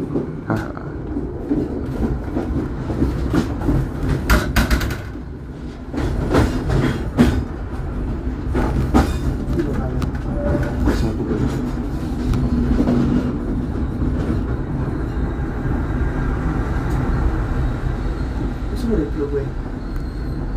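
Cikuray passenger train running past at Karangsari station, a steady loud rumble with rail clatter lasting throughout, heard from aboard a waiting train while a voice talks over it.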